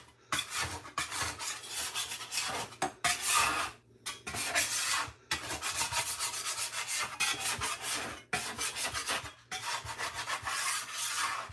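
A metal scraper rasps leftover rainbow pasta off a surface in repeated close, loud scraping strokes broken by short pauses.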